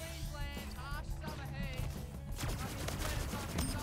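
Rapid gunfire in the video game Splitgate, bursts of shots over game effects and sweeping tones, with a loud dense stretch of firing in the second half.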